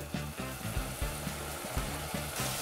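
Potatoes go into a pan of stewing pickles for rassolnik, setting off a steady close sizzle with soft clattering and stirring bumps at irregular intervals, no speech.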